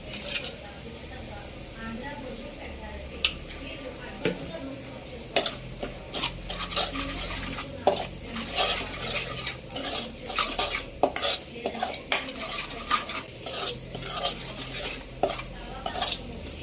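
Ginger garlic paste with turmeric and chili powder being stirred in a pan for mutton liver fry, a spoon scraping and clinking against the metal in an irregular rhythm under a soft steady sizzle, with occasional talk.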